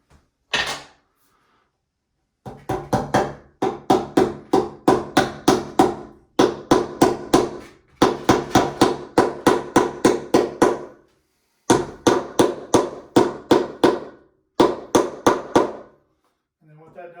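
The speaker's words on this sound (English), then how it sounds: "you hammer it in just like a regular staple" Hammer blows drive a large staple over electrical wire, landing in quick bursts of sharp, close knocks separated by short pauses.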